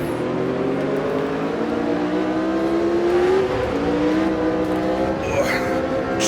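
Race car engine in Automobilista 2 on a wet Interlagos circuit, a loud, close, continuous whine rising steadily as the throttle opens, with a brief gear-change dip and more cars droning behind.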